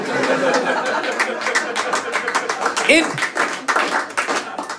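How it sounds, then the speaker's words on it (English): Comedy club audience breaks into applause mixed with chatter and scattered chuckles, a dense crowd sound running throughout with a brief voice rising over it midway. "Odd applause break, but I'll take it."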